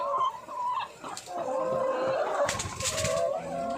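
Laying hens cluck and murmur inside a hot coop, with overlapping, fairly close calls and a few sharper squawks over a constant background hum.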